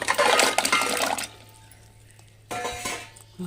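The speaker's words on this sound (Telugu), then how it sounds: "చిన్న కుక్కర్ పాన్ కుక్కర్లో ఇలాగా వాటర్ పోసుకుంటున్నాను" Water pours into a small pan cooker for jackfruit seeds, a loud rushing splash for about a second. Quiet follows, then light metallic clinks and another short pour.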